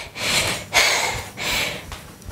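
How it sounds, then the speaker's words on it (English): Hard, heavy breathing after a superset workout, three or four loud rasping breaths close to the microphone with no talking. "You hear me breathing hard?"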